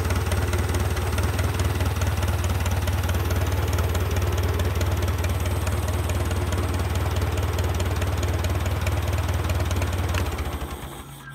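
A motor engine idles steadily and evenly after being revved, a loud, continuous low rumble that stays constant for about ten seconds before fading at the end.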